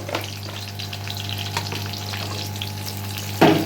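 Steady sizzling of garlic frying in hot oil, with a low constant hum beneath and a brief louder crackle near the end.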